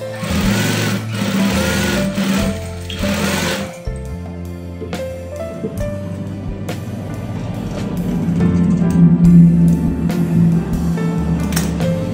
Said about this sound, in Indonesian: Kita jahit yang bawah.